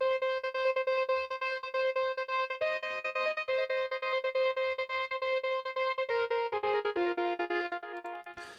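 A heavily processed synth lead for melodic trance, built in Reason with a drive synth, plays a sustained, bright melodic line with gated, pulsing rhythm and shifting notes, alone and fairly quiet.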